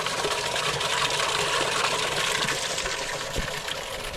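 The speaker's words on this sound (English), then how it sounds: "Let it pump." A pump draws water out of a farm tank, giving a steady loud rushing and gushing with a mechanical hum underneath that runs throughout, close by and with no talk.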